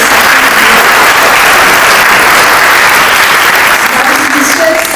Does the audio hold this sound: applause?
yes